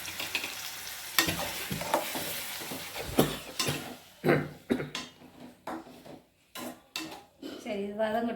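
Ground tomato is sautéed with onions for a cauliflower gravy, sizzling in hot oil while a spoon scrapes and knocks against the pan in uneven strokes, loud and close, with a voice briefly heard near the end.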